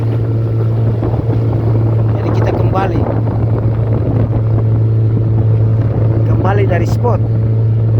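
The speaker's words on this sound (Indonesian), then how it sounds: "Ombak besar, anginnya kencang," Strong south wind roars across the microphone at sea amid big waves, a steady boat engine drone running underneath, while someone talks over it throughout.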